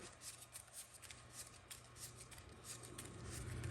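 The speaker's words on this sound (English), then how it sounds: "I guess I got to shuffle now, right?" Trading cards from an Elemental Hero NEOS deck being shuffled by hand, a steady run of soft riffling flutters that builds slightly louder toward the end, close and quiet with no talking.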